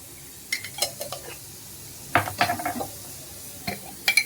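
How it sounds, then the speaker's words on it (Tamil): Mustard seeds and cumin spluttering in hot oil for garlic pepper kuzhambu, scattered sharp pops and crackles in small bursts over a faint sizzle, near and without speech. "சீரகம் தேவையான அளவு, நல்லா பொரிஞ்சு வரட்டும்"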